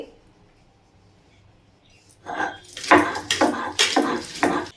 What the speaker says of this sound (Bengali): আমি ধনেপাতাটাও শিলেই বেটে নেব